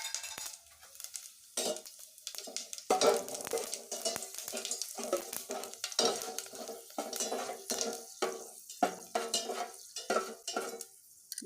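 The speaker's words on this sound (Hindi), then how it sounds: "अब इसमें मैं तड़का के लिए पचफोड़न डालूँगी।" Panch phoron spices crackling and sizzling in hot oil for a tadka, with metal stirring clatters in the pan, close and irregular, continuing steadily throughout.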